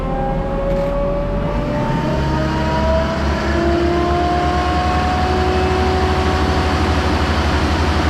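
A vehicle engine runs steadily and loud up close, a continuous low rumble with slowly rising whining tones as revs creep up, no voices over it.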